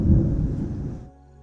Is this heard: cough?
no